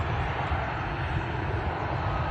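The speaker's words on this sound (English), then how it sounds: "Here we have the Embraer taking off." An Embraer jet fitted with a radome roars steadily at Cleveland Hopkins airport as it takes off, a broad, loud, continuous engine rush with no talk over it.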